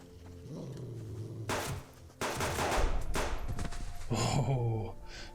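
Rapid gunfire in a survival video game comes in several loud, dense bursts of shots separated by brief pauses, with a short vocal sound between volleys.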